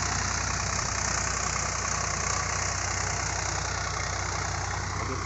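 A Swaraj 744 XT tractor engine runs steadily at low revs while pulling a cultivator through yellow soil, a constant close diesel drone with a low rhythmic thump.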